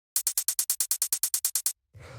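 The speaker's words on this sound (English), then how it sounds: "the last drum that we have here is the second hi-hat" A second hi-hat in a fast Copenhagen-style techno beat ticks out a run of fourteen crisp, evenly spaced hits alone, then cuts to a brief burst of noisy texture at the end.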